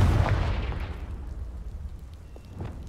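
A Confringo fire spell explodes in Hogwarts Legacy, a loud close blast with a deep boom that decays over about a second into a fading rumble and crackle, with no voices.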